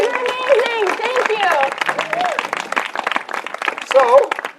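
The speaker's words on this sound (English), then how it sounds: "So can we give another huge round of applause to our audience volunteers?" An audience claps for volunteers at a live show, the applause sounding as a steady patter of hand claps beneath whooping and excited voices that rise over it throughout.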